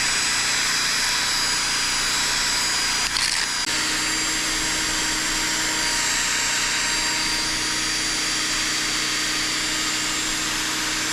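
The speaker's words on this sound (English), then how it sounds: "we're polishing this with a brass wire wheel" A brass wire wheel polishes a freshly zinc-plated Dana 27 pinion flange, giving a steady, loud motor whine with a broad abrasive hiss that holds unbroken for the whole stretch, with a brief scuff partway through.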